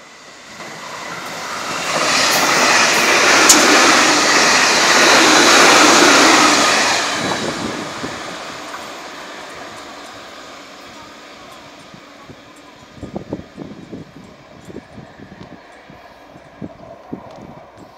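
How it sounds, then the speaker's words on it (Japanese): An 8000 series limited express train passes a seaside station, a loud broadband rush that builds and holds for several seconds before receding, followed by quieter rumbling and scattered clanks. "上り8000系潮風号石槌号が通過です。"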